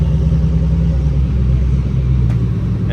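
Pagani Huayra and Koenigsegg Regera hypercars pulling up at a supercar show, with a loud, steady, deep engine rumble close by that holds level throughout.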